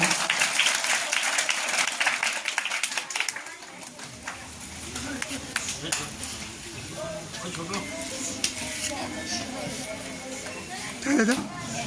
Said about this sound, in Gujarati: તાળીઓ પાડીશું.